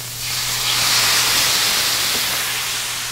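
Japanese wasabi yuzu dressing poured into a hot stir-fry pan, bursting into a loud, broad hissing sizzle that swells quickly and holds steady, with a low hum beneath and no talking.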